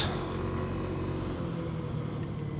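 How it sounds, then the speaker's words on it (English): Large trucks pass close by during a ride on a 125cc Buddy scooter through a neighborhood, a steady loud rumble of engines and road noise with wind, continuous and without talk. "Trucks. Those are big trucks."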